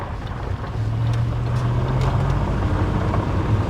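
Range Rover rumbling steadily as it drives off-road, a low engine drone with wind buffeting the microphone, no talk.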